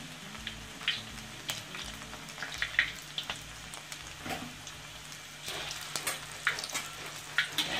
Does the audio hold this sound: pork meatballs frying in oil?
yes